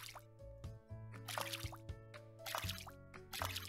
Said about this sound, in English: let's get it watered